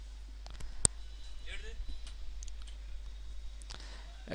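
Keyboard keys pressed for sheet-switching shortcuts in Microsoft Excel, a few sharp close clicks spread across the clip over a quiet room hum, with faint voice in between.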